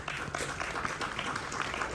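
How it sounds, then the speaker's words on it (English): Audience applause at an AWS Community Day tech conference talk in Pune, a brief, fairly faint patter of many hands clapping in a hall, steady and unbroken. "please give him a round of applause once again"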